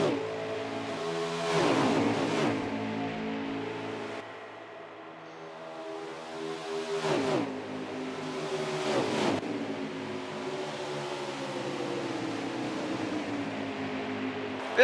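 Racing trucks roar around the Kansas oval at a Winston event, engines droning and rising in harmonic whines as packs pass, with several swelling, Doppler-like passes over a continuous, fairly distant engine din.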